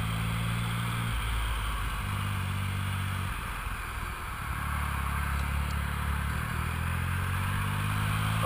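Triumph Rocket 3 Roadster motorcycle being ridden in the sun, its engine a steady low drone that shifts pitch through gear changes, beneath constant wind rush.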